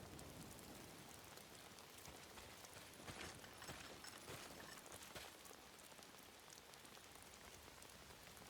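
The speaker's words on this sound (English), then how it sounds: "Rain heavy. Let's do that." Heavy rain weather in the video game Days Gone: a steady, dense hiss of downpour drumming on surfaces, constant and even throughout with no voices.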